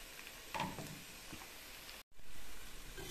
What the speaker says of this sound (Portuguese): Aqui eu vou misturar quatro ovos, ó, aqui dentro. Vai fritando.